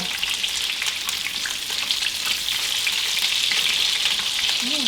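Italian meatballs sear in a pan with a dense, steady hiss and crackle of hot oil, close and even throughout, no voices.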